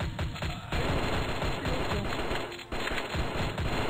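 Rapid gunfire crackles steadily through a short stretch of the flash shooter game Strike Force Heroes, loud and continuous, with a brief dip near the start.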